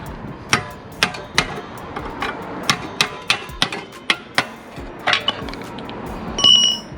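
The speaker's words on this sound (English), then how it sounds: "now I'm just hammering it straight out" Repeated sharp metallic hammer blows hammering a rear knuckle bushing out of a Lexus IS300, about a dozen strikes at an uneven, steady pace, close and loud, ending with a brief ringing squeal.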